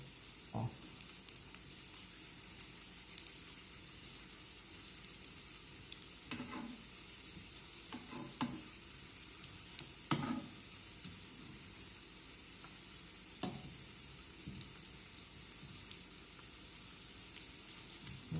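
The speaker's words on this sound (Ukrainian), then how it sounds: "Продовжує смажитись на другий бік." Steady, quiet sizzling of potatoes frying in a pan over low heat, with occasional scrapes and clicks of stirring over a constant hiss.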